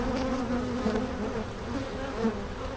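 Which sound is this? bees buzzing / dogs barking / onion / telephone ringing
bees buzzing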